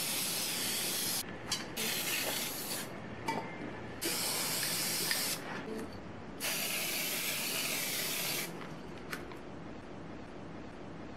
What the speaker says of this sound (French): J'utilise la bombe et un pochoir.